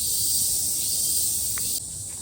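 Steady high-pitched insect drone, likely cicadas, fills the air outdoors on a hot day just outside shrine grounds in Tokyo, continuous and fairly loud before dropping slightly in level near the end.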